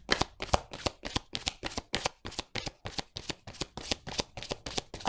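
Tarot cards being shuffled by hand in a steady run of crisp riffling bursts, about three per second, close and fairly quiet with no talking.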